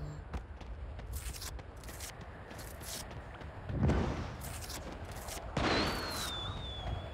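Gunfire in the mobile battle-royale game Sausage Man, with several short shot bursts spread across the stretch and two heavier blasts near the middle and end over a steady game-ambience bed, fairly quiet overall.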